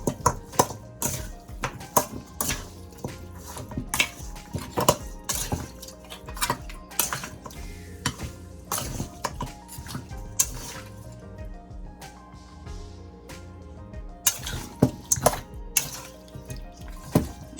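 A spoon stirs oxtail stew in a pot with frequent metallic clanks and scrapes in an uneven rhythm, close and fairly loud, and a short quieter stretch in the middle.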